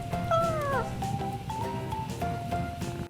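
A cat meows repeatedly, several close, clear, tonal cries in succession, some rising and falling, over a light background murmur.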